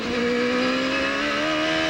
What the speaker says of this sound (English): Danny Sullivan is the car behind him trying to catch Gordon